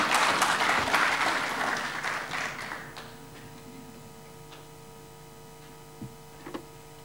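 Audience applause at a university youth leadership forum, loud clapping at the start that fades over about three seconds, leaving a room hum with a couple of faint taps afterward.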